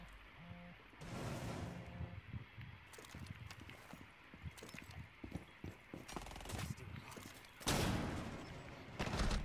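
Gunfire in Rainbow Six Siege, scattered shots and bursts in a busy indoor firefight, close and fairly loud, with a sharp louder blast near the end and players talking over the action.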